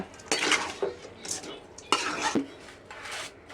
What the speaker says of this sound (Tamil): சிக்கனு மிளகாய் உப்பு எல்லாம் மிக்ஸ் ஆகிற அளவுக்கு நல்லா கிண்டி விடுங்க